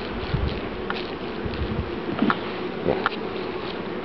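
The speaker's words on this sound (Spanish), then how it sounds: "Tenemos una invasión de avispas." Wasps buzz around beehives in an apiary, a continuous near drone of wings under wind noise, with a few individual insects passing close by.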